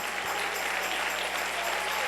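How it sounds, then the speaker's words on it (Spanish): Church congregation applauding during a 2009 Spanish-language worship service, a steady dense wash of clapping that holds at an even level from start to finish with no voices. "Dale ese aplauso al Rey."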